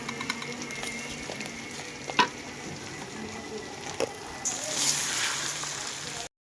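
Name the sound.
frying and stirring polao rice in oil with beef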